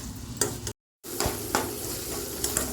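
Paneer cubes sizzle steadily while being sautéed with spices in a pan, with a few soft stirring scrapes and a brief cut to silence partway through. No one speaks.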